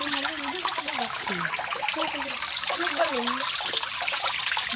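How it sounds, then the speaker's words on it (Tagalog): Strong water from a spring pours and gurgles steadily nearby in a continuous rush, while voices talk faintly and indistinctly underneath. "Lakas po ngayon ng tubig namin dito sa bukal."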